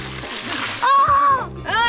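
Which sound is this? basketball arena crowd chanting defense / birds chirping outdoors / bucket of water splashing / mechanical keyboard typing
bucket of water splashing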